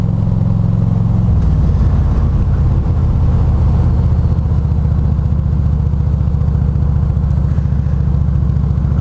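A Harley-Davidson Road King motorcycle cruises at steady speed, its low, loping V-twin engine rumbling close and loud with an even throb throughout, no one talking.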